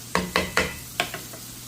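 Food frying in a pan while being stirred, likely riced cauliflower with garlic and mushrooms, with five or six quick scraping strokes over a low steady sizzle, close and fairly loud.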